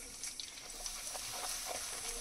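Chopped onion and cumin hit hot mustard oil in a pan, giving a soft, steady hiss and sizzle with faint crackles, fairly quiet and close.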